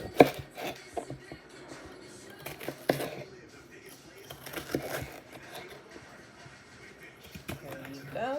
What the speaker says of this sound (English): We're going to cut into 1-inch slices.